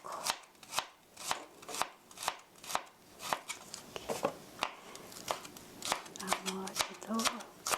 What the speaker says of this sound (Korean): 이렇게 잘게 썰어 주시고요. 이렇게 썰시다가 또 눕혀서 썰고,